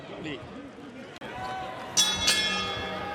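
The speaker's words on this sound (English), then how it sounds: "The bell and round one." A boxing ring bell rings to start round one, two bright clangs close together that ring out over a live fight crowd while a commentator talks throughout.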